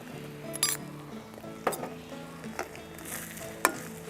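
Home-grown ginger fries with a pinch of salt in a pan, a soft steady sizzle running underneath while a utensil clinks against the metal a few times.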